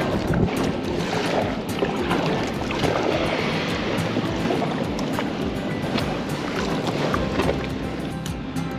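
A kayak is paddled close to the beach along a remote Australian coast, with continuous wash of water, gentle surf and wind buffeting the microphone filling the whole stretch, steady and close, with no talking.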